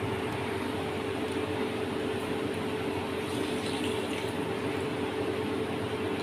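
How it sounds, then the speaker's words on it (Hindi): Half a glass of water poured into a pan of fried keema, a steady, fairly faint splashing flow that continues evenly without a break. "अब इसमें मैं डालूंगी 1/2 ग्लास पानी।"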